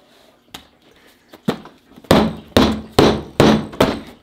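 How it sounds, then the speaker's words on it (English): Hammer blows strike a mystery tackle box to pry it open, starting as a few lighter taps and building to a series of loud, sharp whacks at a steady rhythm, close by. "We open it with a hammer, boys?"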